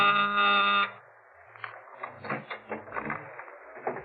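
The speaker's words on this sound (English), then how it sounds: "when my door buzzer phoned" A door buzzer rings with a steady, harmonically rich electric buzz for about a second, then stops and gives way to quieter knocking and rustling sounds.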